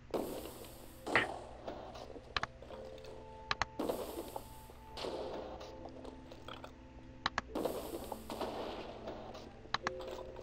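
Bazooka shots in a Minecraft game, heard as a few sharp bursts spaced several seconds apart, each ringing into a mechanical tail, with faint clicks and game tones between them.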